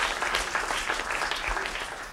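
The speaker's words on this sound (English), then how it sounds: "One more round of applause." Audience applause at a live mixing event, steady dense clapping throughout, close and full with no talk over it.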